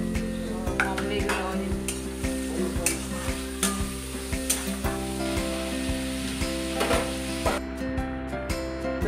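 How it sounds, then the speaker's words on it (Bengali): Onions frying in a pan, browning over the heat: a steady close sizzle runs throughout, with regular clinks and scrapes of a stirring spoon against the pan and no talk. "পেঁয়াজটা লাল লাল করে ভাজা হবে"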